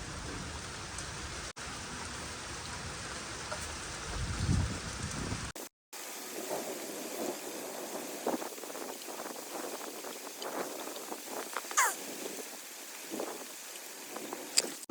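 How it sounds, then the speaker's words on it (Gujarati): Rain falls steadily on an outdoor orchard during a windstorm. A dense hiss of drops patters on nearby surfaces, with some wind buffeting the microphone and a brief break partway through. "વરસાદ પણ આવવાનું ચાલુ થઈ ગયો"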